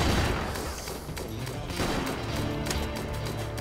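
Rapid gunfire from the colony-building video game RimWorld crackles in dense bursts, a busy fusillade of shots that continues without a break.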